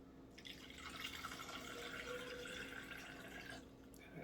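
Water poured into a protein shaker bottle, a steady close trickling fill lasting a few seconds, fairly quiet and unaccompanied by talk.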